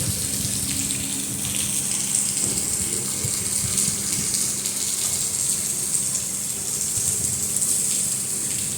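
Steady, even hiss of rain falling and splashing on surfaces nearby, continuous throughout with no voices.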